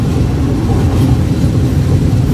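The Tezgam Express, hauled by a GE U40 diesel locomotive, rolls through a railway station in Pakistan: a loud, steady, wideband rumble of wheels and engine noise, heard close from on board without a break.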